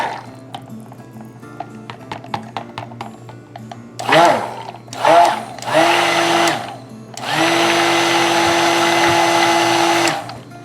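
A stick blender mixes cold process soap batter in short bursts, then runs in one longer steady whir, loud and close, after a stretch of quiet clicking and tapping.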